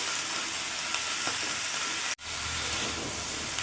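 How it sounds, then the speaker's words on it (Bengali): Mixed vegetables sizzle steadily in hot oil in a home kitchen pan, with light stirring scrapes, a continuous close frying hiss that cuts out briefly near the end before resuming. "এবার সব সবজিগুলো কিছু ভাজা কিছুক্ষণ ভাজা ভাজা করে দেবো আমি"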